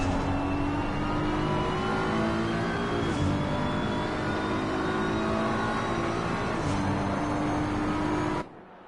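A BMW race car in a sim race at Watkins Glen revs hard and loud, its engine note climbing steadily through gears with two brief shift dips, then cutting off abruptly at the end.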